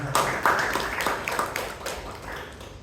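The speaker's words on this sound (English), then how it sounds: "Give a big round of applause to Amisha." Audience applause at a Bangalore Toastmasters Club meeting, a moderate roomful of scattered claps rising together and tapering off over a few seconds.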